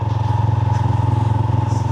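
Motorbike engines drone steadily in busy Cebu City street traffic, a close, loud, continuous low rumble with a pulsing rhythm and faint clatter of other vehicles.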